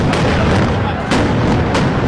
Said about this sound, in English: Bosco Perez, one of the winners as the fireworks go off